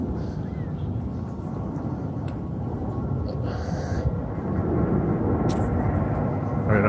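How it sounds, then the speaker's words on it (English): A low, continuous roar of airplanes rumbles overhead in Saint-Laurent, Montreal, swelling slightly louder toward the end, with no talking. "Some more planes coming in, you could hear them."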